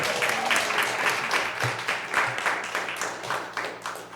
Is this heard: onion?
no